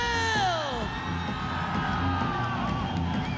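A loud arena crowd cheers, whoops and shouts for Muay Thai fighter Michael Pham at a ONE Championship event, a dense continuous roar with a few high whistles rising over it.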